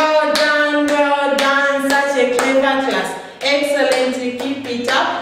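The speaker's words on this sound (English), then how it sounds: "Can you clap for yourself?" Children in a pre-mathematics class at Fountain School clap for themselves, about ten sharp, uneven claps landing over a sustained tonal voice or music.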